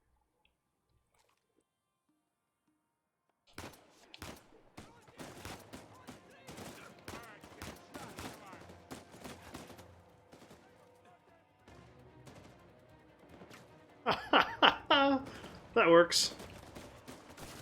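Gunfire from a handgun and enemy snipers in the video game Uncharted 4, a dense run of sharp shots and bursts that grows louder and harsher near the end, with a voice talking briefly over it.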